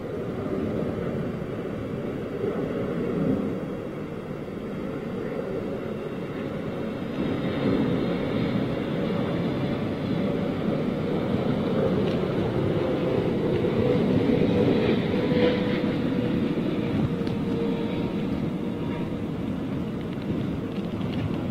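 A Kuwait Airways Boeing 777 jet passes in windy conditions, its broad, steady engine roar swelling gradually and holding, heard from a distance with wind buffeting the microphone.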